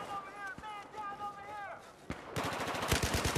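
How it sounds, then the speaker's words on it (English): Rapid automatic gunfire in Battlefield 4, a loud burst of quick repeated shots in the final second, after a short stretch of tonal game sounds and a single sharp crack. "I keep shooting at my friendlies, y'all."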